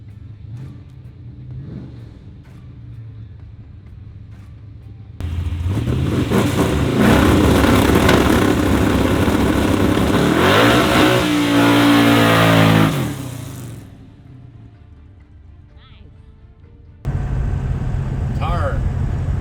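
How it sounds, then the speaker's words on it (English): A manual stick-shift white car at a racetrack: the engine revs up hard and loud, holding a strained roar for several seconds before dropping off, then picks up again, with idling rumble between. "I'm gonna do some stick shift stuff in the white car."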